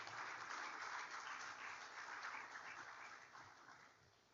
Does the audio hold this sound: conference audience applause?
yes